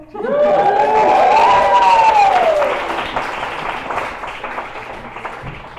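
A stand-up comedy audience applauds and cheers loudly for the comedian, a dense, near wash of clapping that swells and then thins out, with one whooping voice rising above the crowd early on.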